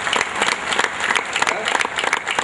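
Audience applauding at the inauguration of a modern laboratory, a steady, dense burst of clapping from a crowd, close and loud, with some voices underneath.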